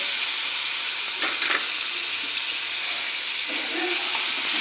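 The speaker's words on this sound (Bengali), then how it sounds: "ধর কি সুন্দর তেল বেরিয়ে আসছে এখন ডিম আর কপি এগুলো দিয়ে দেবো" Eggs and cauliflower fry in hot oil with a constant, dense sizzle that fills the whole stretch, plus a few faint clinks and stirs on top.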